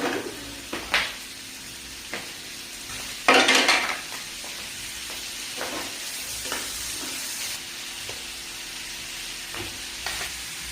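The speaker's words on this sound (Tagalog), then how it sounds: "Ginisa ko lang yung lahat ng sangkap." Vegetables and fish sizzle steadily in a new hot pan while a ladle stirs and scrapes, with a louder burst of frying partway through and occasional clinks.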